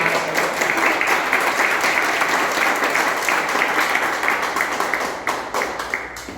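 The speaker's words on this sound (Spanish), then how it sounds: "yo les voy a rogar a los que están aquí que le den un aplauso al Señor" A church congregation gives sustained, dense applause for the whole stretch, steady and full, easing slightly toward the end, with no talking over it.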